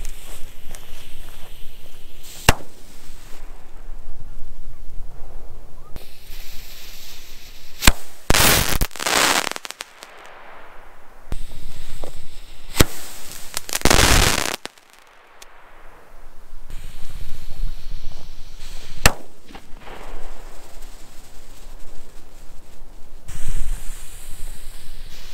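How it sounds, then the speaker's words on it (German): Lone Star Premium Kometen Mix fireworks going off outdoors during an Easter firecracker outing: sharp loud bangs and crackling bursts repeat over about 25 seconds, with hissing and rumbling in the gaps between shots. "der Premium Kometen Mix von Lone Star"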